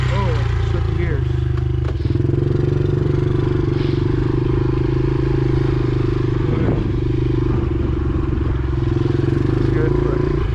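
Honda CRF70 dirt bike ridden on a trail, a loud continuous engine drone recorded up close with brief shifts as gears change and some rattling clatter throughout.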